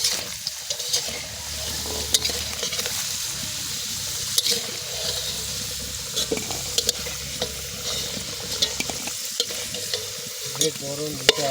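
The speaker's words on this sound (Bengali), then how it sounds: "এখন তেল দিয়ে দেবো, দিয়ে আলুগুলো ভেজে নেব" Potatoes fry in hot oil in a pan, a continuous close sizzle broken by repeated scraping and clacking as a spatula stirs them.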